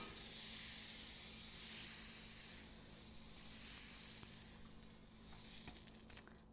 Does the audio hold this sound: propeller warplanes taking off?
no